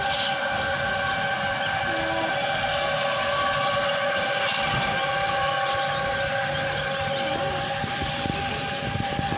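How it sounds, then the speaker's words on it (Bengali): A train at a station, a loud continuous rumble with steady sustained horn-like tones running through the whole stretch, close by and without talk. "ট্রেনটা আসার অপেক্ষায় আছি।"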